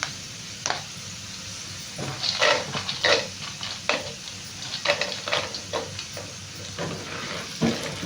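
Cashews sizzle in a pan for semolina kesari, giving a soft, steady fry broken by repeated spoon scrapes and stirring clicks. The sound is close and moderately quiet, with no voices.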